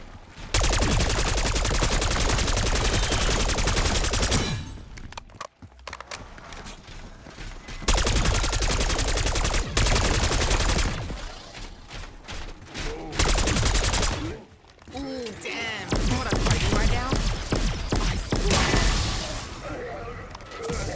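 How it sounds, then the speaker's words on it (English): Rapid automatic gunfire from Call of Duty Zombies (Liberty Falls) sprays into a zombie horde in long, loud sustained bursts broken by brief pauses, with a voice talking over the shooting. "Just continue to mag dump down the horde, do some damage."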